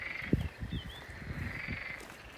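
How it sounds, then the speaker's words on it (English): Pond frogs croak from behind a courtyard area beside an old chateau, a low pulsing chorus of short repeated croaks with one sharper call, heard at moderate distance over steady background hiss and a faint high tone. "And here are all the pond frogs."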